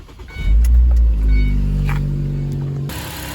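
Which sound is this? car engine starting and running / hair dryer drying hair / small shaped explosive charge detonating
car engine starting and running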